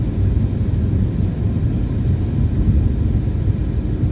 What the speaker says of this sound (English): Sorry about the AC noise if it's loud.